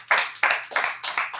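Audience clapping at a monthly meeting, four sharp, evenly spaced claps in a quick rhythm, close and moderately loud.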